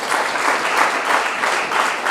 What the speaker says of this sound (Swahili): Pigeni Yesu makofi mazuri